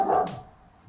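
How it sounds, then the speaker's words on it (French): A dog barks indoors in a home, a single close sharp bark that fades quickly, with no talking over it. "Désolée, c'est le chien qui aboie."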